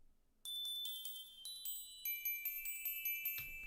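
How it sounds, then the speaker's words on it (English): Bright, ringing glockenspiel notes struck one after another in a studio, close and clear with no talk, the strikes coming slowly at first and then in a quicker run of notes that let each metallic tone sustain. "And the other part is a glockenspiel,"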